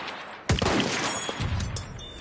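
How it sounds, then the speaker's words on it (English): A sniper rifle shot in the Battlefield 1 video game brings down a plane: one sudden loud crack-boom, then a rumbling wash of explosion and battle noise, with a sharp pop near the end. "here I am blowing up a plane with my friggin' sniper"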